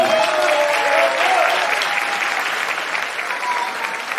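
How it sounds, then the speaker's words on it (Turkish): A burst of audience applause, dense clapping that holds steady and fades slightly toward the end. "Lütfen bir Mahmut alkış yapar mısın?"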